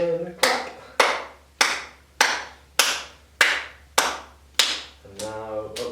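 Nine sharp, evenly spaced hand claps ring out clearly during a gentle self-compassion yoga session, each one crisp and close with a short decay, and a voice speaks briefly at the start and end.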